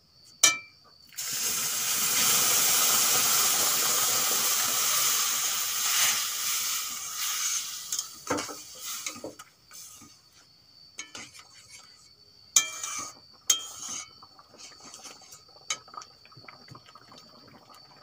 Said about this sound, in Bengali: এখন আমি এর ভিতরে দুধ দিয়ে দেব। আগে থেকে গরম করে রাখা দুধ।